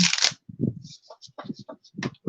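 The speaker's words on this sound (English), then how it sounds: "These are such good shuffles." Tarot cards from a deck such as the Weaver Tarot Journeyman Edition being shuffled, a brisk burst of riffling papery noise at the start followed by softer card slides and taps as a person talks over them.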